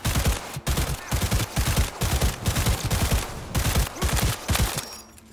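Rapid gunfire from a weapon in the video game Cyberpunk 2077, loud close bursts of repeated shots in quick rhythmic volleys that continue for several seconds, then stop abruptly as the gun runs dry.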